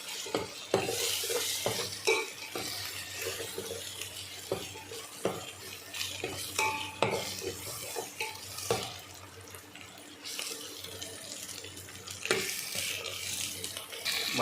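Ginger and garlic frying in a pan with chicken then added, heard as a steady close sizzle broken by repeated scraping and stirring knocks of a utensil against the pan.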